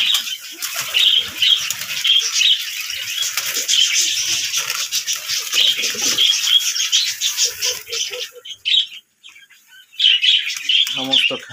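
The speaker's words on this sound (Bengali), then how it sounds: "এবার কবুতরগুলো খাওয়া শুরু করলো" A flock of pigeons busily feeding on scattered food flutters and flaps close by, with constant wingbeats, light pecking patter and soft chirps, thinning briefly before resuming.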